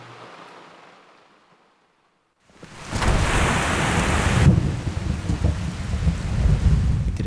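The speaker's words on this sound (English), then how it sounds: "This rain's gonna slow me down." After near silence, heavy rain bursts in with a deep rumbling roar of thunder in the game Skyrim, loud and continuous, then settles into a steady downpour.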